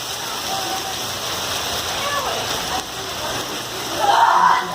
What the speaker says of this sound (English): Oh, look at the hail on this side.